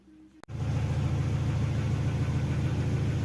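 A Mercedes W202 engine cranks and catches with a sharp start after a brief quiet hum. It then settles into a steady, low idle that runs evenly to the end.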